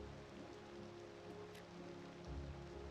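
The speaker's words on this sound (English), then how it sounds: "It is raining right now" Rain falling in the Cities Skylines II city-building video game, a soft continuous patter of drops at a faint level, steady throughout with a slight low swell near the end.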